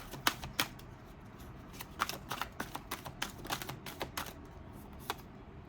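Tarot cards being shuffled by hand, a quick series of crisp riffling flicks and soft slaps in irregular bursts, close and fairly quiet with no talking.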